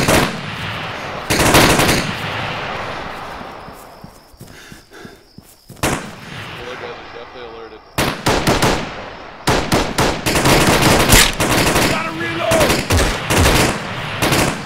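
Heavy exchanges of automatic rifle and machine-gun fire from the military video game Arma III, long loud bursts and rapid single shots broken by brief quieter gaps, close and dense throughout.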